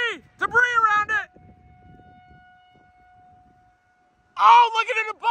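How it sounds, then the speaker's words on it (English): A steady distant tornado siren tone hangs in the background in Kansas while excited voices shout loudly over it at the start and end. "Tornado sirens going."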